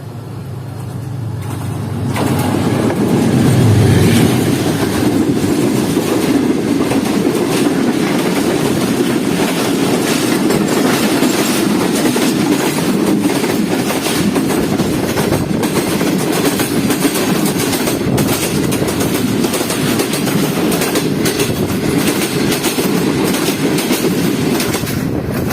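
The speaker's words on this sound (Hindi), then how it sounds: "ये सामने से आ रही है 26 डाउन बहाउद्दीन ज़िक्री एक्सप्रेस।" The 26 Down Bahauddin Zakariya Express, led by an AG30 locomotive, rumbles past close by at dawn with a loud, steady roar and continuous clickety-clack of wheels that holds for the full length, with no talk.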